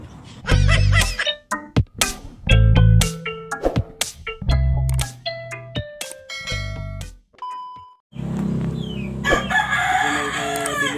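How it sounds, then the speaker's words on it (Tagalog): A rooster with scaled legs (30-31 scales) crows repeatedly and loudly close by, long bursts broken by short gaps amid clucking, with livestock noise near the end. "Pakita ko lang sa inyo yung manok ko na may kaliskis 30-31."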